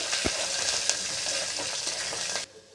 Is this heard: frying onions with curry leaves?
yes